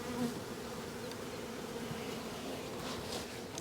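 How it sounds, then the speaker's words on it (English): A swarm of honey bees at a hive fills the air with a dense, continuous buzzing drone, steady and close, with no voices over it. "What a nice sized swarm this was."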